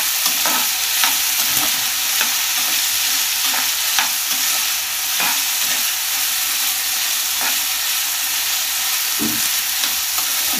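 Pieces of food frying in a pan for several minutes, giving a steady close sizzle with occasional stirring scrapes and bubbling pops that run through the whole stretch.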